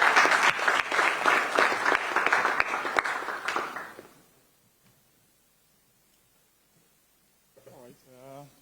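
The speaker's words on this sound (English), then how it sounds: "A big round of applause for him" Applause from an audience at a climate diplomacy event, loud and busy at first, then thinning and fading out after about four seconds into near silence before a voice begins speaking.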